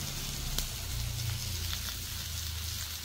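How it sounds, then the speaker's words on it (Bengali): Pointed gourd, potato, carrot and capsicum fry in a pan with a steady, moderate sizzle and faint crackle running unbroken throughout, no voices present. "পটল আলু গাজর ক্যাপসিকামের একটা ফ্রাই করছি"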